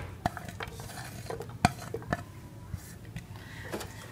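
Finely chopped onions and a spoonful of ghee softening in a pan, with faint sizzling and a few sharp stirring clinks of a spoon against the metal, quiet and close with no talk.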